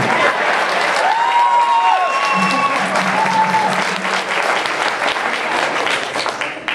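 A convention audience claps and cheers during the opening ceremony of JordanCon 2010, loud continuous applause filling the room, with a few voices and whoops rising over it and the clapping thinning slightly toward the end.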